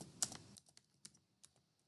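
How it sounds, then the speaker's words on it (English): Keys tapped on a computer keyboard while entering an application name, a dense burst of clicks at the start followed by scattered single keystrokes, close and clear with no talking. "here I'm typing calculator"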